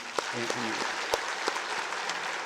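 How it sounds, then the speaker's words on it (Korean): Steady crowd applause fills a church service, with a few sharper claps and a brief voice underneath. "우리 뜨거운 박수로 한번"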